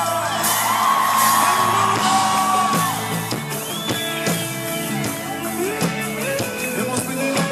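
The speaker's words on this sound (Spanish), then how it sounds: "Con un grito de alegría." A church congregation shouts with joy during worship, loud overlapping whoops and yells ringing out over music and percussion.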